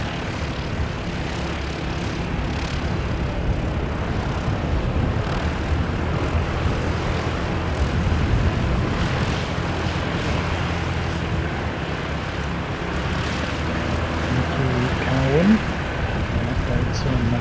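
A flying doctor service plane comes in to land, its propeller-aircraft engine droning steadily at moderate loudness throughout, while someone talks over the engine noise.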